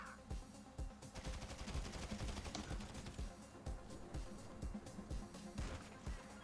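Rapid bursts of gunfire in the video game GTA V, sharp repeated shots in quick irregular volleys, dense and continuous throughout without talk.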